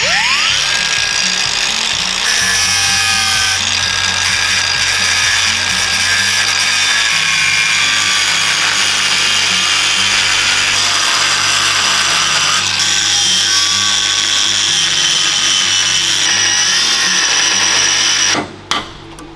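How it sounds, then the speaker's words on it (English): A power tool grinds and drills through rivets on a VW Razorback, a loud, continuous high-pitched whine with harsh metallic rasping that runs for nearly twenty seconds before cutting off abruptly. "So that's the main 8 rivets taken out."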